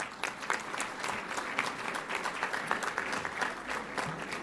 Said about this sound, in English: giving a great and warm applause to Diamante Inc.